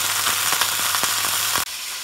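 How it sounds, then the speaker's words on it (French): Chicken legs and wings sizzle as they grill, a loud, steady hiss with faint scraping clicks that cuts off abruptly near the end. "Ensuite on met à griller les cuisses, les ailes."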